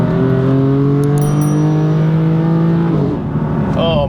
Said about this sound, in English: Oh man, SM performance exhaust sings